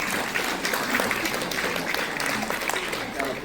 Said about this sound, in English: It is alright to applaud yourselves.